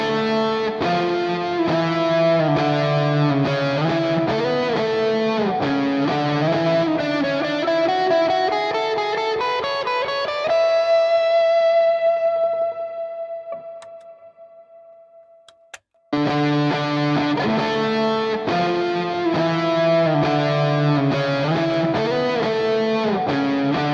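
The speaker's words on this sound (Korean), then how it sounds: "마지막 후렴에는 다시 파라다이스 기타 스튜디오 플러그인입니다." Clean electric guitar through the Paradise Guitar Studio plugin, with three drive pedals and a compressor ahead of them, playing a steady chordal part that swells into a long sustained note, fades to near silence, then resumes at full level.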